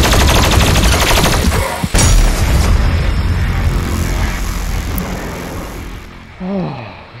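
Rapid missile fire and explosive bursts in the video game Doom Eternal, loud and dense, with overlapping booms and crackling impacts running throughout.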